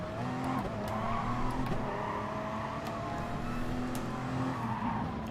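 A car spins out in the GT Sport racing game, with a steady engine drone and sustained tire skidding that holds at moderate volume throughout, without speech.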